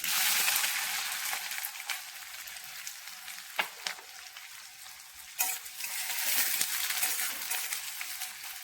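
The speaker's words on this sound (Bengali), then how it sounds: "এবার আমার এখানে সরষে আর কারি পাতা ফোড়নে দিয়ে দিলাম, আর দিয়ে দিচ্ছি কুচি করে রাখা পেঁয়াজ" Chopped onion frying in a pan with mustard seeds and curry leaves for Bengali-style poha, a steady close sizzle broken by a few sharp spatters and stirring scrapes, with no talk.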